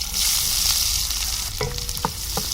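Onions sizzle and fry in hot oil with mustard seeds in a pan for a Tamil cowpea (thatta payaru) kuzhambu, a steady loud crackle with a few sharper stirring clanks near the end, no voices.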